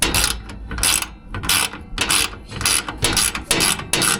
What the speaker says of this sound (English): I'm going to use a ratchet wrench because it's going to fit in here a lot easier than the socket